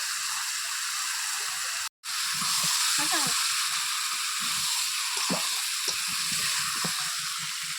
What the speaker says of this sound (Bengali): এবার এখন মাংসটাকে ভালো করে কষিয়ে নেব, তারপরে জল দেব।